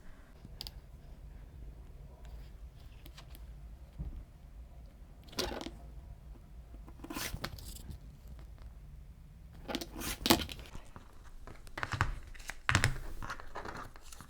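Quilting fabric is cut for a quilt in a series of soft crisp cuts and rustles, faint at first, then denser and louder clusters of snips and crinkling toward the end.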